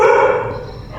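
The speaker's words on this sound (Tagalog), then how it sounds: "Ingay yan, may aso." A dog gives a single loud, close bark that trails off quickly, standing alone without talk.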